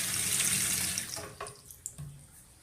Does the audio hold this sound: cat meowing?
no